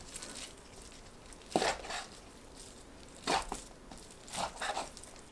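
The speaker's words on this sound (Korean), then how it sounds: "먹기 좋게 썰어주세요." A knife cuts beef into bite-size pieces on a board for bulgogi, giving a few separate, moderately soft chopping thuds spaced a second or more apart against quiet kitchen background.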